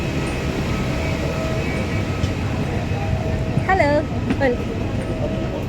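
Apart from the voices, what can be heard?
train at Bangalore airport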